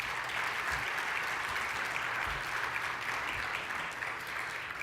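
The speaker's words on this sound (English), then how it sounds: "Let's give them a round of applause." Steady applause from a conference audience thanking event sponsors, a dense even wash of clapping that holds throughout with no voices over it.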